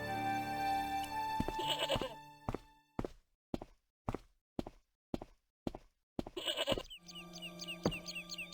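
A goat tethered by a tangled rope to an old plowshare bleats in the adventure video game Broken Sword, several clear nasal bleats framing a series of evenly spaced thudding footsteps in between.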